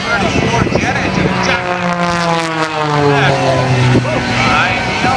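A modified Chevy S10 pickup powered by a J34 jet engine roars loudly at an air show in Rhode Island, a sustained blast with a whine that sweeps down in pitch, under an announcer talking.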